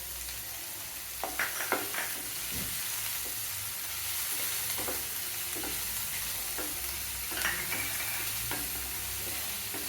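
Onion, garlic and fennel seeds sautéing in oil in a pan give a steady close sizzle throughout, with occasional scraping stirs and light clicks of a spoon against the pan.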